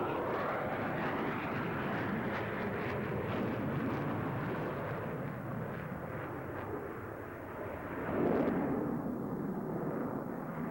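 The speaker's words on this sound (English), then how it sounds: "The show is on as the Blue Angels roll down the main runway here at the Reno National Championship Air Races." Blue Angels jets roar down the main runway at the Reno National Championship Air Races, a sustained loud, broad jet rumble that swells near the end.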